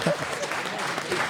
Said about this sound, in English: I think a round of applause for Ijan.